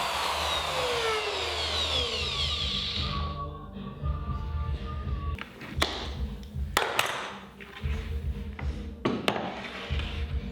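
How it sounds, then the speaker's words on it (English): Power-tool cutting of dados in cabinet stretchers on an exact width dado jig in a workshop, a whining router or saw run that winds down, then scattered sharp taps and knocks of wood handling. "I cut these using my exact width dado jig, which is much cleaner and much faster"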